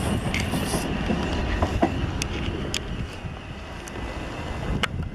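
A South Western Railway train departs Datchet station for Windsor & Eton Riverside, a steady low rumble of rolling wheels with wind noise on the microphone and a few faint high squeals and clicks, no voices.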